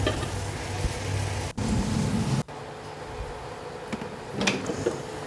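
Clam meat frying inside an air fryer gives a constant soft sizzle over a whooshing fan hum, broken by a couple of abrupt cuts and a brief clunk near the end.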